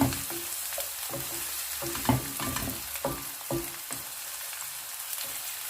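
Garlic sautés in oil in a pan for a cabbage and chicken dish, a crackling sizzle close up with repeated scraping stir strokes at a loose rhythm.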